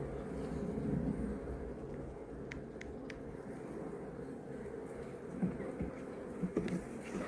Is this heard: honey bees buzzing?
yes